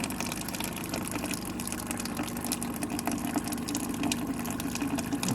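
Vinegar running through a ReadyRefresh water dispenser into a bucket during cleaning, a steady close pouring and gushing stream of liquid that continues without pause, with a faint pump hum beneath.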